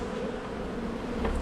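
Honey bees hum inside an opened hive in a strong colony, a brief, close, steady drone of many wings with no talk.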